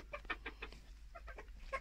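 Hens cluck softly inside a henhouse, a few short clucks and murmurs in quick succession, faint and close, with no talk.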